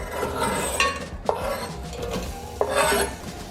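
Onion sizzles softly in olive oil in a pan while a utensil stirs and scrapes, with a few sharp clinks against the pan over a quiet, steady frying hiss.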